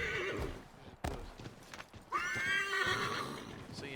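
A horse in the Assassin's Creed 3 video game gives a loud, shrill whinny, with clip-clop hoofbeats running steadily underneath and no talk over it.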